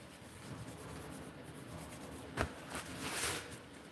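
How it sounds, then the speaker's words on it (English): A dry erase marker squeaking and rubbing over a Sharpie line on a non-porous surface, a faint, steady scratchy drawing sound up close with a small tap partway through. "I'm going to take a dry erase marker and draw over the top with the dry erase marker."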